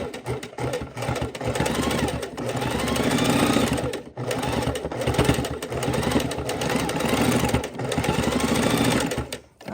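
A sewing machine stitches a fabric bowl cozy, running at a steady slow whir with one brief stop midway, loud and close.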